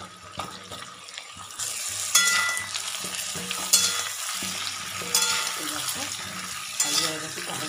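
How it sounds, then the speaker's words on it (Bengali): Potatoes fry in a pan and are stirred repeatedly, a steady close sizzle punctuated by rhythmic scrapes and clinks of a utensil against the pan, with no one speaking. "আলু হয়ে গেছে, হালকা করে ভাজবো"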